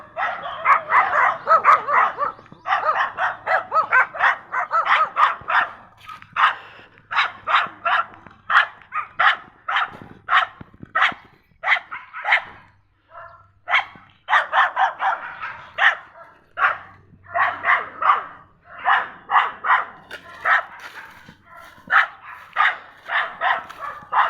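Many dogs on a farm bark repeatedly in sharp, clustered volleys, some close and loud, with yips mixed in and short pauses between bursts.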